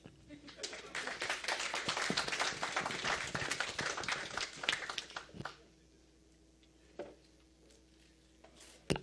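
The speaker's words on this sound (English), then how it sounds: "now you can clap" An audience claps at the end of a conference security talk, a dense burst of hand claps that lasts about five seconds, then drops to a few scattered claps and room noise.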